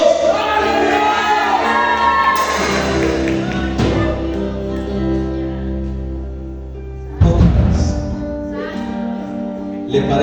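A church congregation shouts together in a loud, sustained mass cry of hallelujah, with overlapping voices and a strong burst of shouting near the end.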